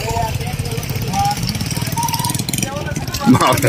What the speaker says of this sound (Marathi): त्यात ट्रॅक्टर मागे चाललंय